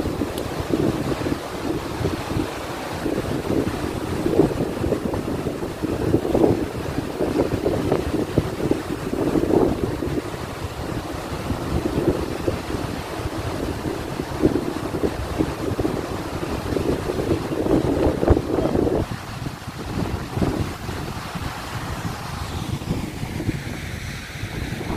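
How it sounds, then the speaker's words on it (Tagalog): Water pours steadily from a dam in a continuous roaring wash with wind buffeting the microphone, loud and unbroken throughout, with no voices. "Yung ganda ng bagsak ng tubig na galing sa dam."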